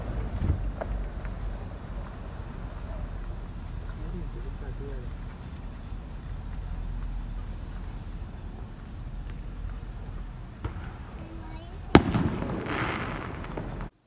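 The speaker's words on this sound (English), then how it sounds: "there is a shit ton of fireworks going on outside, because it just hit midnight on the 25th" Fireworks go off outdoors at midnight on Christmas, heard from indoors as scattered faint, distant pops over a low rumble, with one sharper, louder bang late on followed by a short crackling burst.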